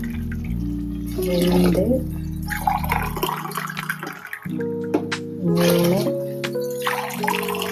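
Water is poured from a tumbler into a cooking pot for biryani-style upma, splashing and gurgling in several pours with brief pauses between them, while a voice speaks over the pouring.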